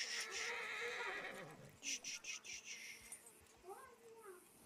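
A horse in an Old West roleplay video game gives a loud, drawn-out whinny, followed by a run of rhythmic hoof thuds and a second, fainter neigh near the end.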